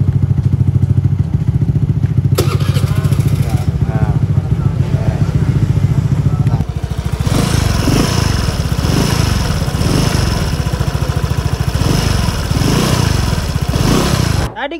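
A Suzuki Address scooter engine runs after an oil change, a loud, close, buzzing idle with rattling clatter and shifts in tone partway through, steady throughout.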